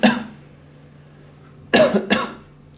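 A patient coughs twice in quick succession during a stethoscope chest examination, after a brief earlier burst; the coughs are close, loud and sharp against a quiet room with a faint steady hum.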